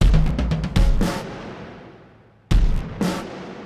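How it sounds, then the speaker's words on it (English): Two layered drum kits, one with more room ambience, pushed through the Volt distortion plugin so only the transients distort: loud punchy hits in a busy pattern, then a long decaying tail and two more heavy crashing hits. "Then I also layered another drum kit."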